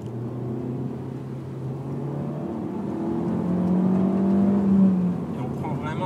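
Alfa Romeo MiTo QV 1.4 MultiAir 170 hp engine heard from the cabin, humming steadily and then rising in pitch as the car accelerates, with a droning engine note that swells and then eases off.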